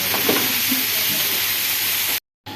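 A pressure cooker lets off steam pressure after cooking beef yakhni pulao, giving a steady, loud broadband hiss that holds for about two seconds and then cuts off abruptly.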